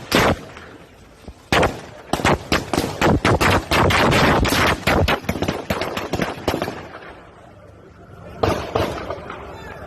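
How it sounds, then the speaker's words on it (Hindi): Gunfire in news footage: a rapid volley of sharp, loud cracks in dense bursts, some overlapping, then a pause and a final cluster of shots with faint background noise between. "फायरिंग की भी वीडियोस आई हैं, ये आप देख सकते हैं।"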